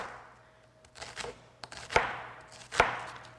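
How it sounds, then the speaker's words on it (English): A knife chops an onion on a cutting board with a handful of sharp, separate strikes, two of them especially crisp, close-up in a quiet room with no speech. "And you have a chopped onion."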